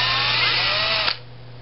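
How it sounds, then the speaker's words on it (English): A small power driver whirs steadily as it backs a stainless steel screw out of the ODS part of a tankless water heater burner, a close, continuous buzz that cuts off abruptly near the end. "we take this screw out."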